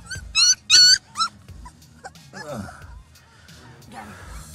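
Puppies just pulled from a hole in the ground let out several sharp, high yips and whimpers close by, followed by softer whining and quieter rustling.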